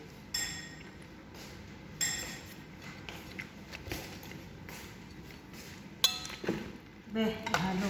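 Rocket and pomegranate salad tossed with utensils, light clinks and scrapes of cutlery against a bowl at a gentle irregular pace, close and fairly quiet, with a few sharper knocks near the end and faint voices in the background.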